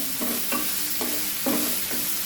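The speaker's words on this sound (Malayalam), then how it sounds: "നമുക്ക് ഇനി ഇളക്കി കൊടുക്കാം ഹൈ ഫ്ലെയിമിൽ തന്നെ വയ്ക്കുക" Pumpkin stir-fry stirred in a non-stick pan over high flame: a steady sizzle with four or five rhythmic scraping strokes of a spoon, close and clear, with no talking.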